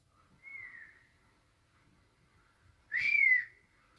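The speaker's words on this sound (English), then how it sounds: "I had been whistling back and forth for quite some time." A person whistles in the open air, two separate tones: a short wavering whistle early on and a louder, rising-then-falling whistle near the end, with quiet pauses around them.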